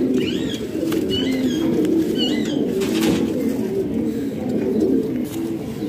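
Several kabootar bazi (pigeon-flying) pigeons coo continuously in low, throaty warbles close by, with faint chirps and a few wing flutters in the background.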